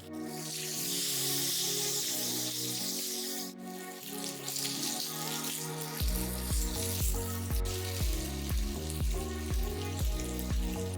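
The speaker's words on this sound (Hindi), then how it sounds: "तेल गरम होते ही मैरिनेट की हुई मछली को डालेंगे।" Marinated fish pieces fry in hot mustard oil over a medium-low flame, giving a steady, loud sizzle that gives way to a strong rhythmic beat partway through.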